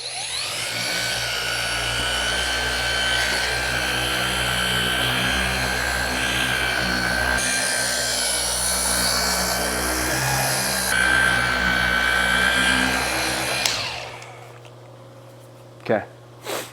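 A Rupes HLR75 3-inch cordless polisher working on a car hood gives a steady, loud mechanical whir with a high whine, running nonstop before it cuts off, followed by a couple of faint knocks; someone talks over it.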